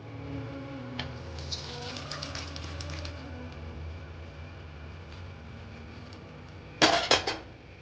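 Pressure-cooked gongura (sorrel leaf) dal for Andhra-style pappu is poured into a strainer in a brief wet rush near the end, after quiet room ambience with faint distant birdsong.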